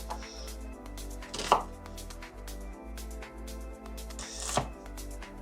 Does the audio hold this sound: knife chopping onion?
yes